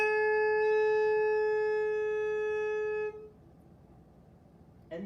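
A saxophone holds one sustained note for about three seconds, steady and clear with rich overtones, then stops and leaves near silence before a faint sound at the end.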